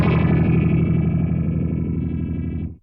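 An electric guitar plays through a phaser effect pedal set to its highest rate, a loud sustained chord with fast warbling, sweeping tone that rings out, then cuts off sharply.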